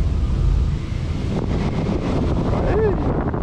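Wind roars loudly against the microphone on a swinging pirate ship ride at an amusement park, a heavy, fluctuating rumble with faint rider voices beneath it.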